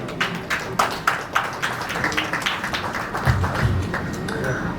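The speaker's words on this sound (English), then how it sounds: "Can we give a round of applause, ladies and gentlemen?" An audience at a medical education summit in Timor-Leste gives a round of applause, starting with distinct close claps and then settling into a steady, moderate clatter, with a brief low murmur of voices underneath.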